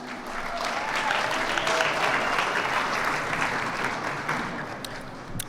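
Audience applause fills a Pride reception at the Chicago Cultural Center, a steady dense patter of many hands clapping for the full stretch with a faint murmur of voices beneath.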